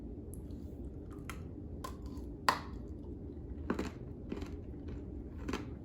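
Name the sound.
crunching and chewing zero-calorie Oreo cookie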